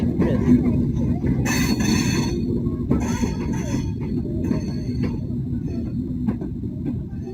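The Chitra Express passenger train on the Khulna–Dhaka route at Poradah station in Kushtia, a steady low rumble of the train standing and moving nearby with brief hissing bursts.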